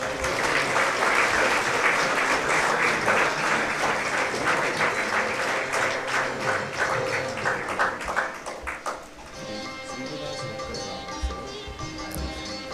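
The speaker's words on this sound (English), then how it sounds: "with a big round of applause" A hall audience at a Universal Brotherhood Day celebration gives a sustained round of applause as guests are welcomed onto the dais, steady and fairly loud, thinning slightly near the end.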